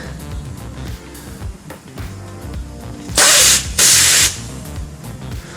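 Two short bursts of pressurized liquid spraying from an abandoned Porsche 924 Turbo being revived after 14 years, loud and close, standing out over a low, steady background rumble.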